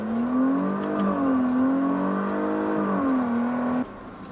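A Porsche Cayenne E-Hybrid pulls away in a launch-control start, its engine note rising steadily through the gears with one brief dip at a shift, loud and close, before cutting off abruptly near the end.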